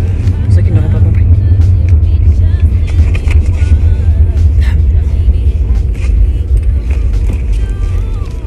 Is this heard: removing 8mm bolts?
no